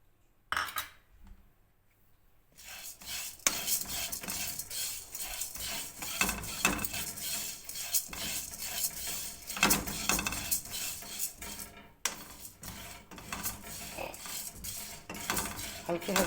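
Melon seeds are lightly roasted in a kadhai, with a spatula scraping and clinking against the metal pan in a steady, continuous stir. The sound is close and moderately quiet, with no voices.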